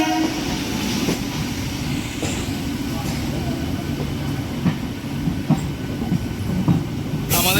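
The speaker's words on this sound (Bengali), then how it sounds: "আমাদের পাশেই কিন্তু গায়ে গা মিলিয়ে চলছে হচ্ছে শ্রীরামপুর লোকাল" A Srirampur local passenger train runs alongside on the next track out of Howrah station, its loud rumbling wheels and clattering carriages heard from inside a moving train, with a brief horn-like tone and sharp bursts near the end.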